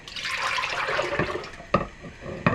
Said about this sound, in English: So pour the mix into a pot